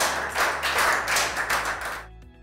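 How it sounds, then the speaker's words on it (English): Children applaud at the end of a chess class, a burst of dense, rhythmic clapping that swells and pulses for about two seconds before stopping abruptly. "Clap for yourselves."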